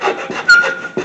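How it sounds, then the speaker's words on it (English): Short rasping strokes of hand sanding or filing along the edges of a wooden box, a few quick rubs close by with a brief squeaky tone in the middle. "do some final sanding,"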